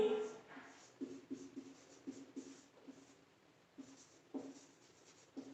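Marker or chalk strokes on a board during a physics lesson, a run of short scratchy squeaks and taps in quick irregular bursts, close and fairly quiet, with no talking over them.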